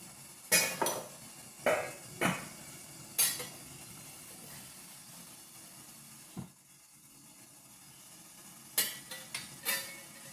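A covered pot of steamed ela ada being opened: several sharp metallic lid and utensil clanks spaced across the stretch, with quiet steam hiss between them, close and without talk.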